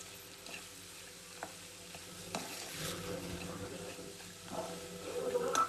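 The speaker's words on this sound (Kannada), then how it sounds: "ಮಸಾಲೆ ಎಲ್ಲ ಕ್ಲೀನಾಗಿ ಮಿಕ್ಸ್ ಮಾಡ್ಕೊಳ್ಳಿ" Masala for chitranna fries in a pan under a soft, continuous sizzle, with a few sharp clinks of a spoon on metal and scraping stirs that grow louder near the end.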